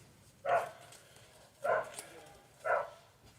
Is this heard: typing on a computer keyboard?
no